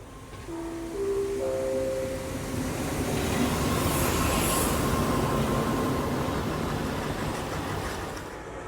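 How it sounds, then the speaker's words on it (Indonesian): A long-distance rapid train running from Bangkok to Yala, a steady rumbling roar of wheels on rails that swells and fades, with brief squealing tones early on and no voices. "kalau ini adalah kereta dari Bangkok menuju ke Yala"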